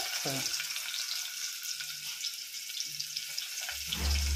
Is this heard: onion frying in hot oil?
yes